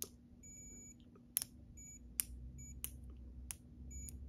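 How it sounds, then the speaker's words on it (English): A multimeter's continuity checker beeps as its leads touch while diagnosing a short in a brass model locomotive, giving about six short, sharp, faint beeps at irregular intervals over a quiet background. "whenever you touch the two leads together, it will beep."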